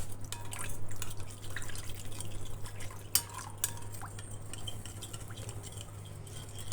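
A spoon scrapes and clinks in a pan as a spoonful of tomato paste is stirred and thinned with hot water, soft liquid stirring with a couple of sharper taps, close and quiet without speech.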